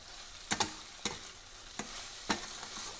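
Grated dry coconut is stirred into a brinjal curry frying in a kadhai, giving a soft sizzle under a few distinct spoon knocks and scrapes spaced about a second apart; quiet and without talk.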